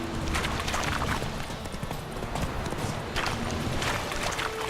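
Horse hooves in The Witcher 3: Wild Hunt, a steady galloping clip-clop from a ridden horse under a dense, noisy mix of game sounds, fairly faint overall.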